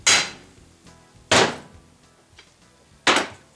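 Three sharp, loud hammer blows strike a socket set against a U-joint clip on a crusty old truck, each a single metallic thwack followed by a short ring-out, spaced about a second and a half apart.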